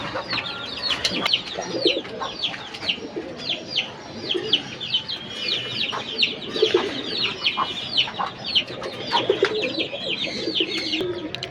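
Pigeons in a coop scuffle, with close, busy fluttering, wing slaps and scratchy calls mixed with low cooing that carry on steadily throughout.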